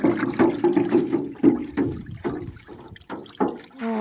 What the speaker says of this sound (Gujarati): આને ઘડીએ ને ઘડીએ હલાવવું પડે, નકર હુઈ જાય.